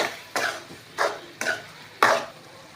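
A spatula scrapes and stirs through a pan of food seasoned with chili powder and salt, making four rhythmic scraping strokes about half a second apart, close and moderately loud.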